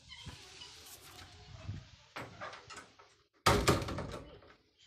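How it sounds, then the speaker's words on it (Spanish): A door is shut inside a home. Soft shuffling and knocks come first, then one loud, close bang near the end that fades quickly. "Voy a cerrar la puerta."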